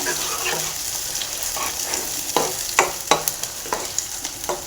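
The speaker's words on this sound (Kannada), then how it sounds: "ಈಗ ಇದನ್ನು ಚೆನ್ನಾಗಿ ಫ್ರೈ ಮಾಡಬೇಕು" A paste of onion, tomato and cashew fries in a pan, giving a soft continuous sizzle broken by a series of sharp scraping taps as a spoon stirs.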